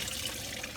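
Engine coolant drains from a Lexus RX 300 in a steady, close trickle of liquid pouring out, continuous for the short moment.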